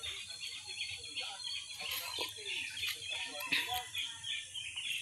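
Chickens clucking and chattering nearby in a rural yard, a run of short irregular calls at moderate volume, with faint speech now and then.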